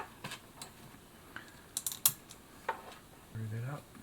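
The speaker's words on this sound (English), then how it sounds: "Just get those screws tightened up there." Screws are tightened on a 1936 vintage Singer power plug: small scattered clicks and metallic ticks of a screwdriver and parts, close and quiet, ending in a brief low scrape.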